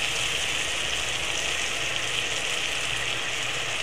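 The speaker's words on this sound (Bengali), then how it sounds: "পেঁয়াজ আর টমেটো প্রায় ভাজা হয়েই এসছে।" Onion and tomato with green chillies frying in a pan for a bitter gourd chachchari, giving a steady, even sizzle that holds at one level throughout, close and alone with no talking.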